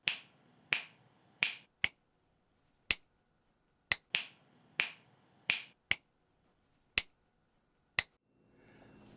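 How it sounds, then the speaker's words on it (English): Finger snaps in a room, a dozen or so sharp, crisp clicks at uneven intervals, each with a short decaying tail, loud against near silence. "I snapped my fingers like so"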